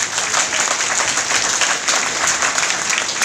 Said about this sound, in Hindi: आप एक बार जोरदार तालियां बजा दीजिए आप सभी